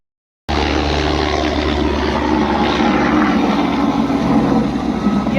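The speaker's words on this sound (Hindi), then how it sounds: "पंचतरनी से हेलीकॉप्टर जा रहे" A helicopter flies close overhead on the Amarnath pilgrimage route, from Panchtarni toward Sonprayag: a steady, loud engine drone with rotor throb, continuous and close, starting abruptly and holding constant throughout.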